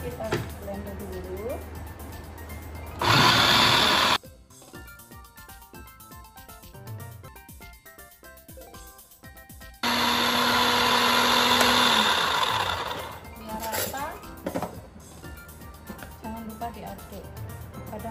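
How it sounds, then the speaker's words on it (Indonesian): An electric kitchen blender grinds steamed, chopped ingredients for Indonesian botok in two loud bursts, one short and one several seconds long, with spoken narration between and around them. "Sekarang kita blender dulu."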